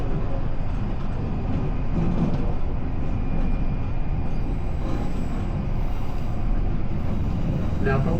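Rumbling White Pass excursion train rolling along the rails near Skagway, a continuous heavy clatter with faint wheel squeal, close and steady throughout.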